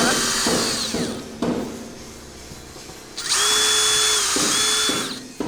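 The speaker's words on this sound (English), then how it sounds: "we're gonna give it a little bit of an easier time seeping out and drill a couple holes" A power drill whines loudly, bores holes into a delaminated boat deck in two long runs with a short pause between, its pitch rising and steadying as the bit cuts.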